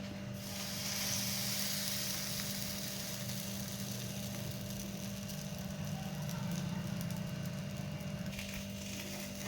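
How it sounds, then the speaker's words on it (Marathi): Bhakri flatbread sizzles steadily on a hot griddle, a continuous close frying hiss with a low hum underneath, no voices. "आता आपण भाकरी शेकून घेऊया एकीकडे आपला तवा तापलेला आहे यावरती आपण ही भाकर टाकून घ्यायची आहे"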